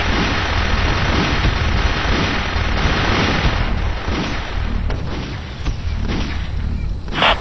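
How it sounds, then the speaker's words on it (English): Mortar explosions in the Army Men RTS PC game arrive as a dense, continuous roar of booming blasts and rumbling impacts, loud and near, with several sharper cracks toward the end. "Mortars inbound."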